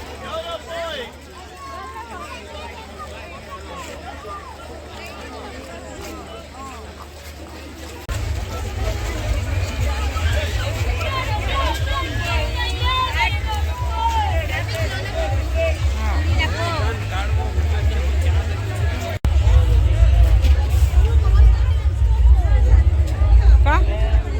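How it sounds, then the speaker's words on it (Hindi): Busy crowd hubbub and bustle outside Akhil Shah Qadri dargah in Channapatna during an urs festival, a steady babble of many voices with a deep rumble beneath that grows louder partway through and again near the end. "जितनी भी भीड़ हो, जितनी भी गलाटा हो, जितनी भी आवाज़ हो, आप देख लीजिएगा"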